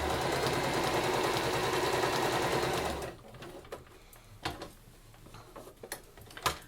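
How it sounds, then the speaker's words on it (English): A sewing machine stitches the bottom edge of a folded drawstring bag pocket, running steadily and loudly for about three seconds, then stopping, followed by faint clicks and handling noises. "just sew to about 1/3 of the way along the bottom edge and finish it with a lock stitch"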